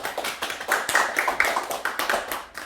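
A lecture audience claps to welcome a poet, a short patter of scattered hand claps that pulses unevenly and stays moderately loud, with no speech over it.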